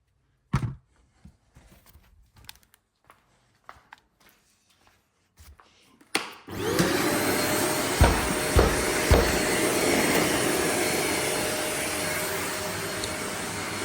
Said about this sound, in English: let's get the vacuum and clean this first before we move stuff around.